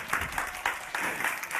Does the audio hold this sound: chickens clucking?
no